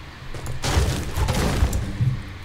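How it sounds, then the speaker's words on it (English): A burst of rapid muffled video game gunfire crackles and thumps for about two seconds over a low rumble, with a few sharper hits. "I heard shots."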